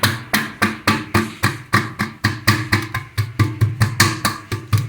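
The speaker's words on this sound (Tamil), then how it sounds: "இப்போ இஞ்சி நசிக்கலாம்." Fresh ginger crushed with a pestle for a home cold and cough remedy: a steady series of about eighteen sharp, evenly spaced pounding thuds, close and loud, with no talk.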